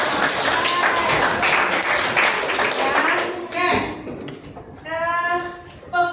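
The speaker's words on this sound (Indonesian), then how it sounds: "Tepuk tangan dulu buat kita semua" Students applaud in an Indonesian eighth-grade language classroom, a dense burst of clapping for several seconds that fades as voices and a high, sustained vocal tone rise over it toward the end.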